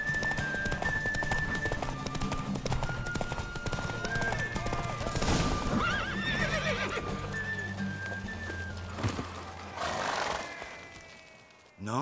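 Horse hooves gallop steadily with a whinny in The Witcher 3, layered over constant game music and effects.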